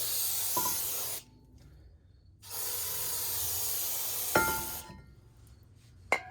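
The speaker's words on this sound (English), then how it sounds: "remember to wipe this down with brake cleaner" Brake cleaner sprayed onto a brake rotor of a 2005 BMW X5 (E53) rear brake, three loud, close aerosol hisses of about one to two seconds each, separated by quiet gaps with a few light clicks and taps.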